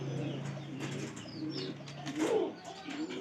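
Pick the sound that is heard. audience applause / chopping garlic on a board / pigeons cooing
pigeons cooing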